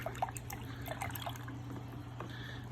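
Water being stirred in a reef aquarium with newly arrived LPS coral, a soft trickling and dripping swirl over a steady low pump hum, faint and close, with no talking.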